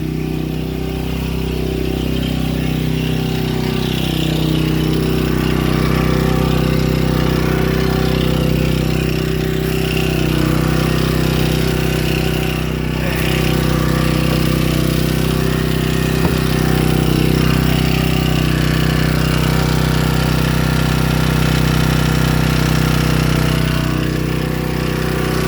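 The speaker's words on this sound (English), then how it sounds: "That generator is a little loud" A Harbor Freight Predator generator runs steadily after its first start, a loud, continuous engine drone with a strong low hum that holds evenly throughout, close by and with no voices over it.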